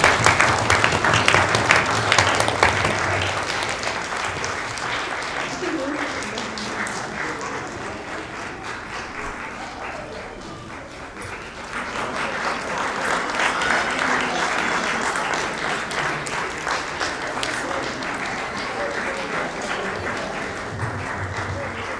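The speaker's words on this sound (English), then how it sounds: "Let's give a big round of applause." An audience at the 2023 JET CA Prajna annual event breaks into a sustained round of applause, loud and dense throughout, easing slightly midway before swelling again, with voices mixed into the clapping.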